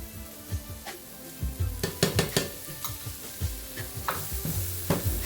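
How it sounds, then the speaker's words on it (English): Minced garlic frying in a pan alongside chorizo for chorizo con huevos: a soft, close sizzle broken by repeated scraping and tapping of a spoon stirring. "we'll cook it for about 1 more minute, just for the garlic to cook down"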